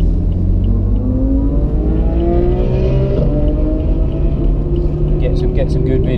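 A BMW M4 accelerates on the Spa circuit with a loud engine drone that climbs in pitch through the gears, heard from inside the car. Someone talks over it.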